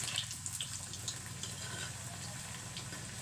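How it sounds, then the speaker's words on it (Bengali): Potato kachori deep-fry in hot oil with a soft, steady sizzling hiss that carries on evenly throughout, with no voices. "দেখুন এইভাবে করে ভেজে নিচ্ছি কচুরি"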